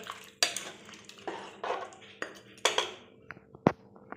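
Chicken curry being stirred in a pot after boiling water is poured in, with repeated close clanks and scrapes of a spoon against the metal pan at an uneven pace over a faint bubbling background.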